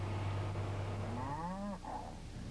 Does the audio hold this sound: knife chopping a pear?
no